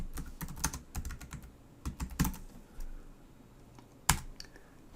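Someone types a search on a computer keyboard, producing quiet, irregular bursts of key clicks with short pauses and one louder keystroke near the end.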